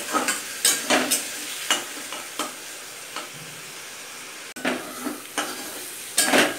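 Onion, ginger, garlic and chili spice paste fries in a pan, with scraping stirring strokes coming in bursts every second or so over a continuous close sizzle, and no talking.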